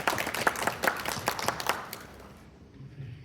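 An audience claps to welcome a commanding officer, Captain Orvik, a brief burst of applause that fades out over a couple of seconds into quiet room tone.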